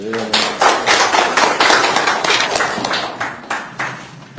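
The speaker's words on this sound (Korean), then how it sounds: "큰 박수로 환영하십" Scattered, fairly close clapping from attendees at a political party committee meeting welcomes a speaker, individual hand claps audible in an uneven rhythm rather than a dense roar.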